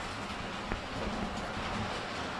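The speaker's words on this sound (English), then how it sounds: "Let me throw the switch here. And you the train's running." Model train running on its track at a transportation museum, a steady, fairly loud rumbling clatter of wheels that fills the whole moment with no break.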